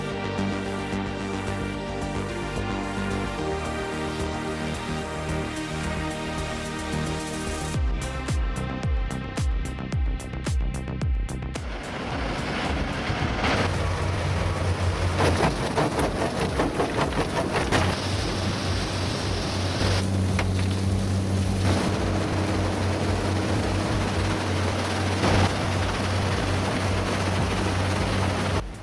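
A heavy industrial crushing line with a McCloskey jaw crusher and cone crusher, running continuously as a loud, dense roar with grinding rumble and shifting clatter, close and unbroken throughout.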